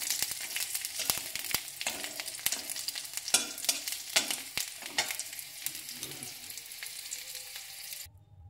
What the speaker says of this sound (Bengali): এরপর রসুনগুলো ভাজতে বসিয়ে দিয়েছি